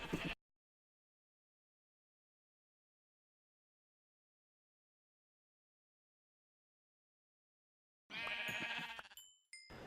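A short bleat at the start, then a long silence, followed by a Minecraft sheep bleating again near the end, close and clear.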